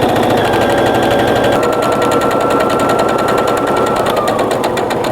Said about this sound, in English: I'm just going to keep stitching all the way down